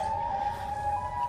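A steady, wailing Siren Head monster siren tone from a video game holds on one pitch, moderately loud over a low rumbling background.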